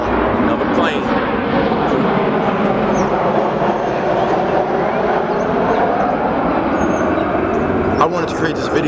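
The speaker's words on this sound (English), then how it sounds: "hold on, another plane" A propeller or jet airplane passes overhead outdoors on a sunny day, a steady broad rumbling drone that holds loud throughout the whole stretch, with a person's voice faintly present beneath it.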